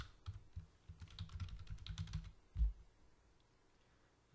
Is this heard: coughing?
no